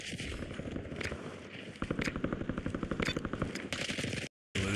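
Rapid automatic gunfire in the video game Warzone rattles in dense, continuous bursts, loud and close, with a brief cut to silence near the end.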